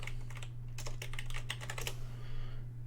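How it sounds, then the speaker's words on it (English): Computer keyboard keys tapped in quick irregular bursts, close and clear, with a steady low electrical hum beneath and no voices. "We're going to type in blue gradient."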